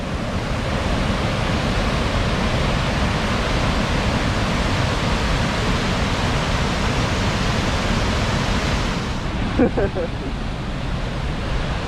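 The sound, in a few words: waterfall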